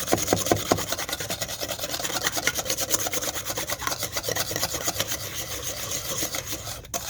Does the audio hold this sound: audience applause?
no